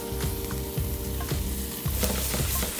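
Potatoes frying in a pan with lightly pressed garlic, a steady close sizzle with occasional scraping stirs and no voices.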